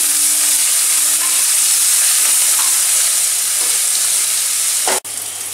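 Spice paste of ground ginger, garlic and slit chillies fries in a pan over lowered gas with a steady, loud, broadband sizzle. Faint scraping is heard, and near the end the frying cuts off briefly before resuming more quietly.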